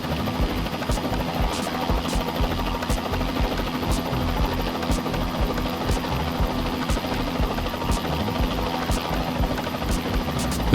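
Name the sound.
Bell 206B3 helicopter in Microsoft Flight Simulator, video game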